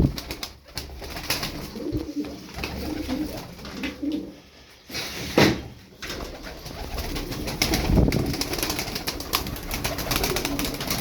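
Tumbler pigeons coo softly and repeatedly against a steady background hiss, with a brief louder rustle midway.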